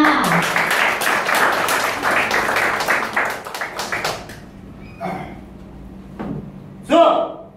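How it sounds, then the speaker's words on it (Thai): An audience at a talk claps for a speaker in a dense burst of applause that tapers off after a few seconds, leaving scattered claps and a voice speaking briefly. "ขอเสียงปรบมือให้วิทยากรสาวสวยหน่อย"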